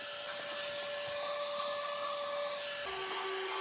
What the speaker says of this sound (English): I just use regular vacuum